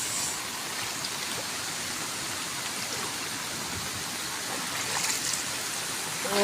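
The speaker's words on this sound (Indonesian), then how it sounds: "Ini hujannya sudah reda, tapi airnya masih gede ya." A swollen rural stream in Sukabumi, Indonesia rushes steadily after heavy rain, a dense, even wash of flowing water that stays loud and close throughout.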